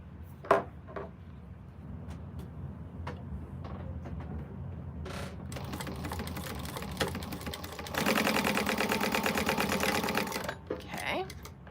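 A sewing machine top stitches a bag gusset in short, rapid bursts among scattered clicks and handling knocks, then settles into a louder, sustained run of a few seconds near the end. A person speaks at times underneath.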